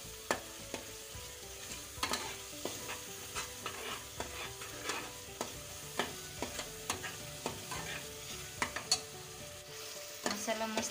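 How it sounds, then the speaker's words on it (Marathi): Masala for chicken curry is stirred and sautéed in a pan, with a soft steady sizzle and repeated sharp scraping clicks of a spoon at an irregular rhythm, close and alone. "मसाला मस्त परतून झालेला आहे"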